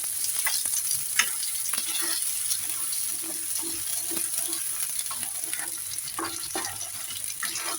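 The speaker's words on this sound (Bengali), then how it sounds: "সমস্ত কচু আমি ঢেলে দিয়েছি" Giant taro (mankochu) pieces fry in a pan with a soft, steady sizzle, broken by repeated scraping and knocking strokes as a spoon stirs them throughout.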